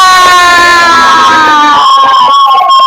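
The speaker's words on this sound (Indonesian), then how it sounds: "Tepuk tangan untuk kelompok ARA." A classroom of schoolchildren cheers and shouts together in a loud, sustained burst of high voices. Any clapping is buried under the cheering and the sound stays close and intense throughout.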